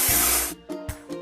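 Spray paint hisses over rust on a machine in a kids' construction video game, one long loud burst followed by two or three short puffs, with cartoon sound effects and no talking.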